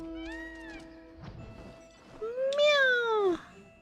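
A cat meows twice: a short, softer call early on, then a louder, longer rising-and-falling meow near the end, heard close over a faint background hum.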